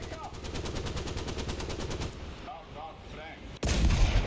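A hull machine gun on a Panzer 38(t) hull tank in the video game War Thunder fires a rapid, evenly spaced burst for about two seconds, followed after a pause by a single heavy, loud blast.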